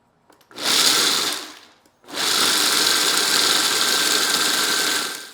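A food processor pulses peanuts into peanut butter: one short loud motor burst of about a second, a brief pause, then a longer sustained whirring run of roughly three seconds, close and alone.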